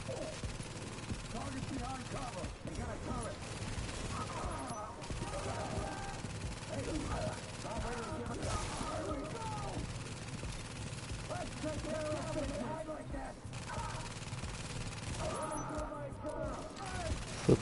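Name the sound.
gunfire and turret shots in the video game The Division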